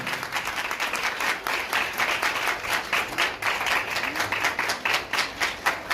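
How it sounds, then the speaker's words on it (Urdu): A church congregation at a Bible study session gives loud applause, many hands clapping in a strong, fairly regular rhythm that keeps going steadily throughout. "زوردار تالیاں یوسف خدا کے لیے"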